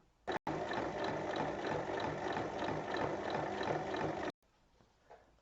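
A sewing machine stitches fabric for a pouch with a snap-fastened flap, a steady rapid mechanical whir running for about four seconds after a short click, then stopping abruptly.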